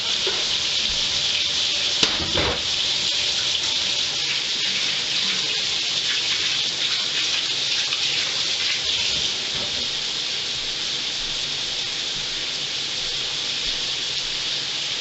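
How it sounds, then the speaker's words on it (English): Tap water runs steadily into a sink as hands are scrubbed with Dawn dish soap after handling raw venison, a continuous close splashing hiss with light rubbing and a brief clatter early on. "I like to use Dawn's dish soap to clean the buck off my hands."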